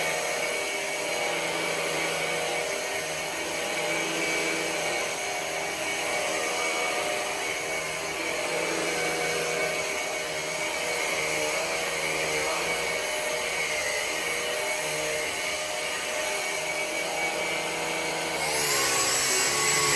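A Henry Quick vacuum cleaner runs with a loud, steady motor whine and airflow roar that holds constant throughout, close to the listener.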